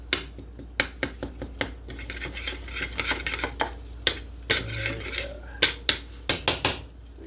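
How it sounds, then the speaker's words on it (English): Runny egg yolk broken up with cutlery on a plate, a close run of sharp metallic taps and clinks in an irregular rhythm, some in quick clusters, with soft scraping between them. "So now I'm gonna break that yolk up all runny over that"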